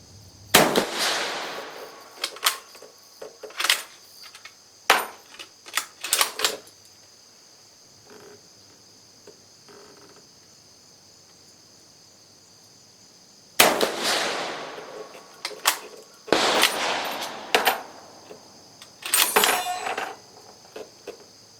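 A Carcano M91/24 rifle firing light reduced-charge cast-bullet rounds outdoors, with a series of sharp, fairly close reports in two bursts separated by a quiet pause.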